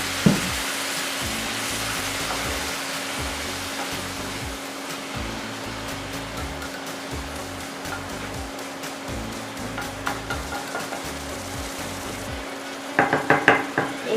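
Shrimp masala for doi chingri sizzles steadily in a pan after a little water is added, a constant hiss with soft stirring and a few utensil clinks toward the end; no talking.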